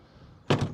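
A Mini Cooper One/Cooper R50/R52 door with a worn check strap swings shut on its own, ending in a single close, soft thud.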